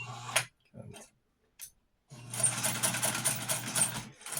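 An old Amarko Model 950-B sewing machine, freshly oiled and still a little stiff, runs in a steady mechanical whir for about two seconds after a few short bursts and pauses.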